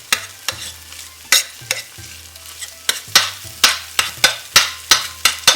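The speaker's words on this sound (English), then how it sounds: "I'm just going to scramble that around and break it up into smaller pieces." Egg is scrambled in a frying pan over a quiet sizzle, with a sharp spatula scrape or tap roughly every half second that speeds into a steady rhythm and stays close and loud.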